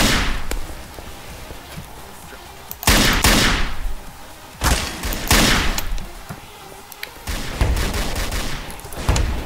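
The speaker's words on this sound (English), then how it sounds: "Opening fire. They're opening fire." Repeated bursts of gunfire in a Garry's Mod DarkRP game, loud volleys with heavy thuds and sharp cracks arriving in several clusters across the clip, with no talk over them.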